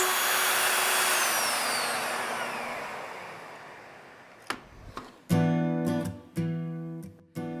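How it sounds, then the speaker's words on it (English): A router cuts a keyhole slot in wood with a loud whining spin that winds down, followed by several short bursts as the motor is restarted and stopped again. "I'm just going to take my router and cut that keyhole slot."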